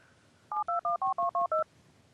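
Seven crisp telephone keypad touch-tones sound in a quick even run, each a short steady dual-pitch beep, clear and close against a faint background hum, with no talking.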